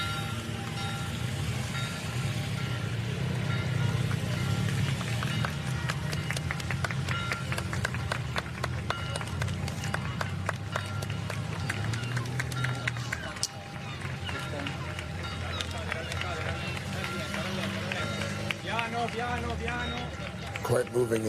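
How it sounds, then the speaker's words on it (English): A crowd in Rome applauds lightly as Pope Francis's procession passes, a soft, steady patter of clapping that runs throughout, with broadcasters talking over it. "there's light applause"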